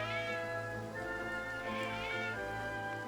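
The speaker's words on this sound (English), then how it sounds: "Meow meow." A cat meows in the Triangle Strategy video game, with clear harmonic meows running steadily through the whole short stretch.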